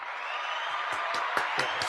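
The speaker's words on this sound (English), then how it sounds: "Let's give him a round of applause for that" Applause from a crowd rises under a steady wash of noise, with a few sharp claps and whoops cutting through over two seconds, close and continuous.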